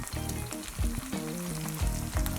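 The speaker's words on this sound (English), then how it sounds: "a lot of the liquid's now cooked away and you can hear it's frying once again" Cottage pie mince with tomato puree frying in a pan, a steady close sizzle and crackle that holds evenly throughout, with no voices.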